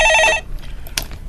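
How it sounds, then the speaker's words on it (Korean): Telephone bell ringing on a Korean stock-market call-in radio show, a short bright trill of rapid repeated rings lasting under half a second, loud and close, followed by quiet studio room tone. "전화 받아보겠습니다"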